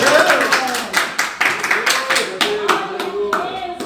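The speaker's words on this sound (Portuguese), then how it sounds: "Posso sentar em palmas para Jesus?" A church congregation at a worship service claps in rhythmic unison, sharp regular beats close by, with singing or voices carrying along underneath the clapping throughout.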